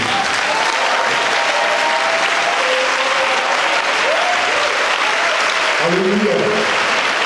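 A church congregation applauds and acclaims God in loud, sustained clapping and cheering, with voices shouting over the steady applause throughout.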